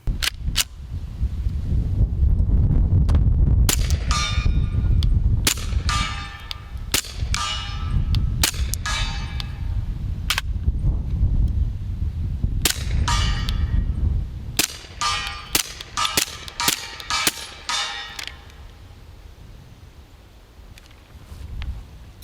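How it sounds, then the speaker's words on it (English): Gunshots from a pistol fitted with a stripped-down Recover Tactical S-PRO stabilizer, a long string of sharp, loud reports fired in irregular bursts, some spaced apart and others in quick clusters, with no talking. "these are the first shots that have taken down this stripped down version of the S Pro."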